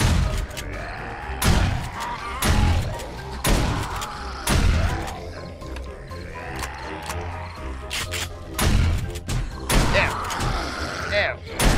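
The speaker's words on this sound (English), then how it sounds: "See, shotgun." A shotgun fires repeatedly in the game 7 Days To Die, sharp loud blasts at irregular intervals with mechanical clatter in between and people talking over the action.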